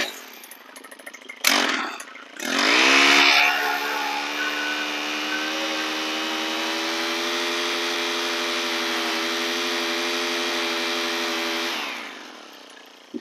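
A line trimmer motor starts with a sharp pull and sputter, then revs up and settles into a steady, loud, droning whine while edging a lawn, running close by and alone until it cuts off near the end.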